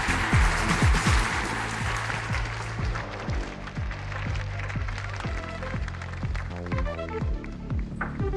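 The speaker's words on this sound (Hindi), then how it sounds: "भाइयों और बहनों, तालियों के साथ स्वागत करें हमारे सभी प्लेयर्स का।" Audience applause welcomes players at a sporting event, a broad wash of clapping loudest at the start and continuing under steady music with rhythmic beats.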